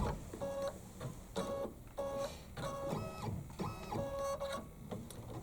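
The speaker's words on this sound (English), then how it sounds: "So after I've stitched my 5 placement lines" An embroidery machine stitches placement lines on fabric for a Kimberbell project, giving a steady mechanical whir with rhythmic stitching pulses and faint high tones, continuous and close throughout.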